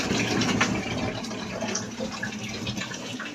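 Water gushes steadily into a home washing machine on laundry day, a continuous, fairly loud rushing fill with no break.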